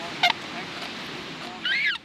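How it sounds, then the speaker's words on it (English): A couple of short honking calls from swans on a canal in Bruges, one near the start and a longer one near the end, over quiet outdoor ambience. "They have confined birds across the country, including these swans at a canal in Bruges."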